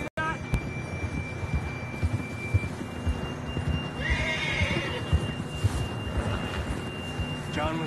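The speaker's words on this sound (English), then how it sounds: "John was riding that horse when we left Blackwater." A horse whinnies in the video game Red Dead Redemption 2, in the middle of a steady outdoor ambience, with a low engine-like hum running underneath throughout.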